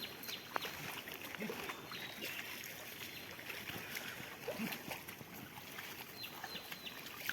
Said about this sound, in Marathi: पाऊस पण आलाय